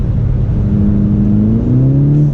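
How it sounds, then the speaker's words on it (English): A VW MK6 GTI engine revs hard on the freeway in a high gear with a worn, slipping clutch, a loud close drone climbing steadily in pitch as revs rise without matching acceleration; no voices. "you put it into a higher gear and just floor it, and then you can see the clutch just slips."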